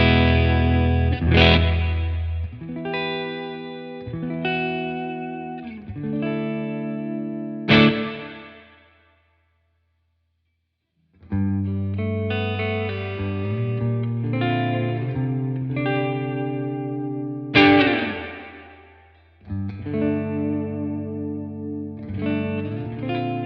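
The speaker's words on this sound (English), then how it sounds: "You can hear it's a big sounding reverb, but it never really takes over, which is nice." Big spring reverb on a modded Bad Cat Black Cat 30 tube amp: distorted guitar chords ring out, each strike trailing a lush wash of reverb, with a pause of near silence before playing resumes, loud and close with no voices.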